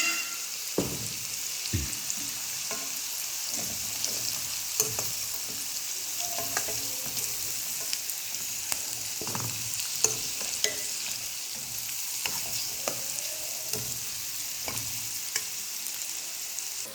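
Rice stir-fried in a pan with previously fried eggs and chicken, no sauces, giving a steady close sizzle with scattered clacks and scrapes of a spatula stirring throughout, no talking.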